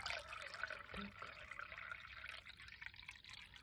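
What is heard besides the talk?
water being poured into a tabletop fountain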